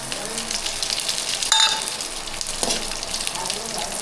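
Cinnamon sizzles as it drops into hot oil, giving a broad, steady frying hiss with a brief louder burst of crackling partway through.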